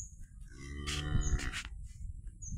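A large bull lows once on a farm, a single deep drawn-out moo close by, with faint background noise before and after.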